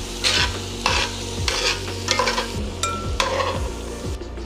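Shrimp seasoned with Creole Kick sizzling in a skillet, with a spatula scraping through the pan in a steady rhythm of about two strokes per second over a constant close sizzle.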